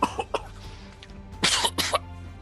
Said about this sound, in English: and so you start coughing